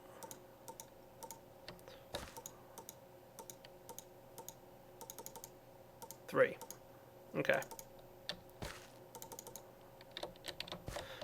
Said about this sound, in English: Now for clicking the wrench many times